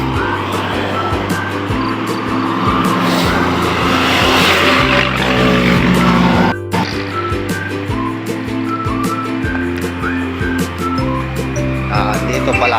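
Engines and passing vehicles rumble along a road near Royal Tagaytay, with a sudden shift midway as another vehicle goes by and whistling and tyre noise over the traffic.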